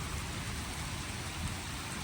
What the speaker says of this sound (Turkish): Yine içecek kadar biraz yağdı işte.